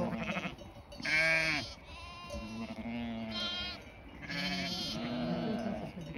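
Ewes and lambs bleat on a farm, several loud overlapping calls of different pitches repeating in bursts across the clip, some near and strong, others softer.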